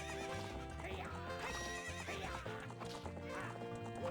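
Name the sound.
horse during race in Zelda video game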